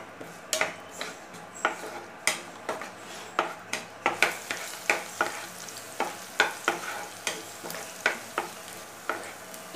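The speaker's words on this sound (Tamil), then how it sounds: "நல்லா வதக்கி விட்டுக்கலாம்." Shallots and fennel seeds sautéed in a pan for chicken fry, a regular series of sharp spatula scrapes and taps against the pan over a soft sizzle, close and clear.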